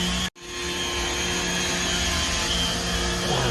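Power grinder grinding down a large fiberglass boat hull repair after a grounding, a continuous close, loud whining roar with a brief cut-out near the start before the grinding resumes steadily.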